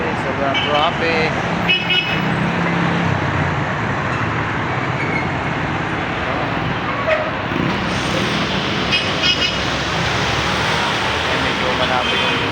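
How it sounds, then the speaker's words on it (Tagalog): Heavy road traffic on a busy, congested street, a dense continuous roar of engines and tyres with several car horns tooting, plus voices talking over it. "grabe, sobrang traffic."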